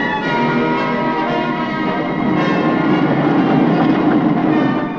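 A heavy, continuous rumbling roar with metallic ringing tones as a long coal train at an automated coal mine rolls steadily along rails nearby.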